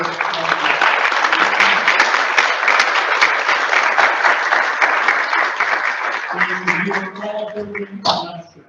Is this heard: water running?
no